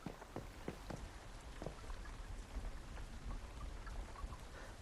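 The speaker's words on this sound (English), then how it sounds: "Oh, it's raining." Steady rain falls in the survival game Once Human, a dense continuous hiss with scattered close drop patters, holding an even loudness throughout with no talking.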